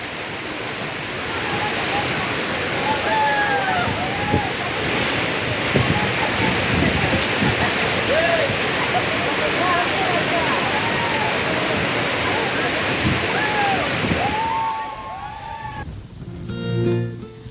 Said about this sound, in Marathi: कुंभवडी गावात असलेला हा धबधबा पर्यटकांना खुणावतोय